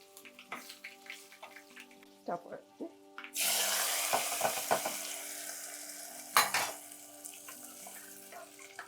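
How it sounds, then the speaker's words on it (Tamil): Mustard seeds and two dried chillies tempered in hot oil: a few light clinks give way to a sudden loud sizzle that keeps crackling while stirring and scraping continue. "தாளிக்கிறதுக்கு கொஞ்சமாக கடுகு ரெண்டு காஞ்ச மிளகா அவ்வளோதான் போட்டு"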